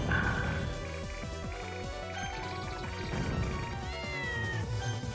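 A cat in the shooter game Castle Shikigami 2 lets out clear meows and rising wails over dense game music and effects. The calls are prominent, with a strong sweeping cry near the end.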